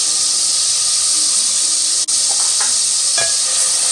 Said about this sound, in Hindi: इसको हल्का सा फ्राई करके इसमें टमाटर पेस्ट डालेंगे।